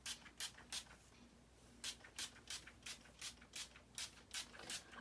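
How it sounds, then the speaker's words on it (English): Spray bottle of leave-in conditioner misted onto hair in quick repeated bursts, around a dozen short hissing pumps in uneven clusters, close and faint, with no talking. "So I'm going to spray this on my hair"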